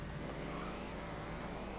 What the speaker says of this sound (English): The engine sounds glorious.